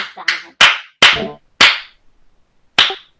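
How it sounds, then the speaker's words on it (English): Six sharp, separate handclaps ring out in a large hall, loud and close with uneven gaps between them, and no talk alongside. "You can hear clapping coming from a different section of this hall."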